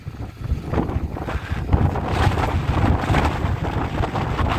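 Gusty wind buffets the microphone outdoors with a rushing roar that swells and stays strong, rain patter lost beneath the blustering noise.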